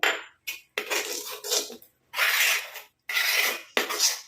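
A rice starch water hair pack is mixed in a bowl, producing repeated close scraping and rubbing strokes in short bursts separated by brief silences.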